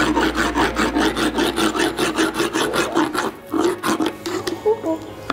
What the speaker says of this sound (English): I don't want to rasp when he's moving his head